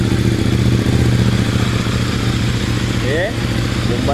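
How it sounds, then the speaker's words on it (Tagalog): A CFMOTO motorcycle engine idles loudly and steadily with a low rumble. A brief throttle blip near the end lifts the pitch, and a voice is heard over the engine. "Bumba natin. Napaka-responsive guys ng kanyang throttle."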